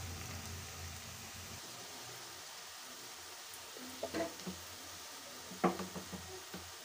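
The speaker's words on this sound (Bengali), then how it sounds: "পেঁয়াজ লঙ্কা ভালো করে ভেজে নেব পেঁয়াজটা ব্রাউন কালার হওয়া পর্যন্ত।" Onions and green chilies frying in a pan until browned, for mutton curry with potatoes: a faint, steady hiss of sizzling oil with a few soft utensil clicks toward the end.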